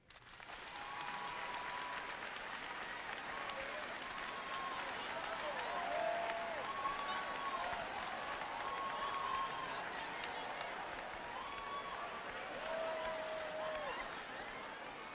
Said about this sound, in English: clap if you think you'd go to heaven